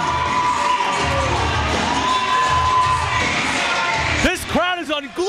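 A pro wrestling crowd cheers loudly, a dense roar of shouts and whoops filling the arena, with voices talking over it and sharp whooping calls near the end.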